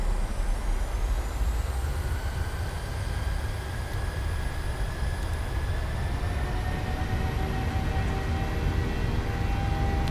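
Airliner jet engines in Microsoft Flight Simulator spooling up to takeoff power: a loud, steady roar with whining tones climbing slowly in pitch, and no voices.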